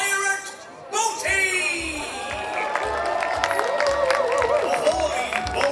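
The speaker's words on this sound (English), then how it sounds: "Please give a big cheer for the one and only pirate, Boaty!" A crowd of children and families at a Legoland pirate show cheers and claps for the pirate Boaty, loud sustained whooping and applause rising after a short pause, with an announcer's voice and music over it.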